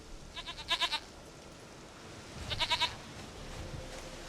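A goat in The Witcher 3 gives two short bursts of quavering bleats, each a quick run of four or five pulsing cries, heard fairly close over quiet ambient background.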